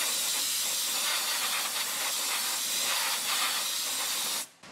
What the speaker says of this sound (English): we're gonna go ahead and get some compressed air.